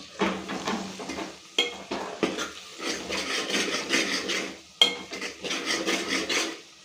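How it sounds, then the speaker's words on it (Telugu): A spoon stirs tamarind leaf and dry fish curry with ginger in a pan, scraping and clattering in repeated bursts with brief pauses, close and fairly loud over a soft sizzle. "ఇలా మంచిగా కలుపుకోవాలి"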